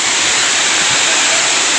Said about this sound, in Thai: เป็นน้ำตกที่ สูง 70 เมตร